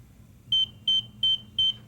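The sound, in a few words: pool alarm sounding after chair thrown in pool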